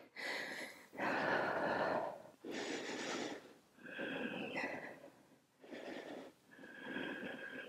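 Controlled breaths drawn in through the nose and pushed out through the mouth during a lower-body leg and glute workout, five or six loud, close, forceful breath bursts in a steady rhythm with no talking.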